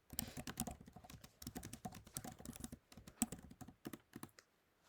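A computer keyboard is typed on in quick irregular bursts of close, crisp key clicks while a MATLAB script is written, with short pauses between runs of keystrokes, fairly quiet and with no voices.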